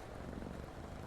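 A cat purring close by, a soft, steady low rumble with no other sounds.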